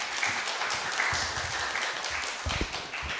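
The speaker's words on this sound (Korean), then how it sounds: "박수를 이렇게 또 오래 쳐주시고 감사합니다" Sustained applause from a church congregation welcoming a pastor at a Korean Sunday service, a steady wash of many hands clapping at moderate distance, continuing without a break.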